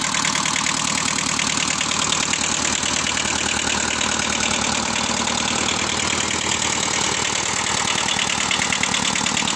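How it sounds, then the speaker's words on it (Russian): A two-cylinder water-cooled diesel engine of a Kubota B6000 four-wheel-drive tractor idles steadily and loudly close by, with a fast, even knocking chug running unbroken throughout. "Под капотом у нас находится двухцилиндровый дизельный двигатель."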